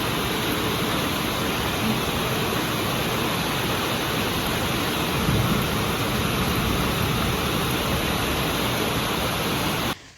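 Dense, roaring downpour of heavy rain, constant and loud throughout, with no voices.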